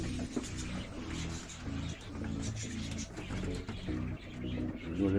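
Pigeons in a loft give soft, repeated throaty coos in a steady rhythm, fairly quiet and close, with several birds overlapping against faint background rustling.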